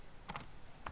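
Three quick, faint keystrokes clack on a computer keyboard while a network switch's VTP settings are entered, two close together and one after a short pause.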